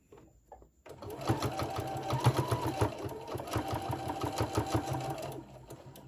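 A sewing machine stitches pleats into a homemade fabric face mask, running in a quick, even run of needle strokes for several seconds after a short pause, close and clear, then slowing to a stop.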